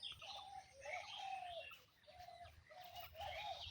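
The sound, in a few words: birds calling in a bamboo grove in the morning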